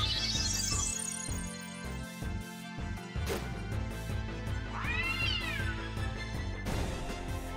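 A cat in Final Fantasy IX meows repeatedly over steady game music, with rising and falling cries and a sharp hit near the middle, loud and up front with no talking.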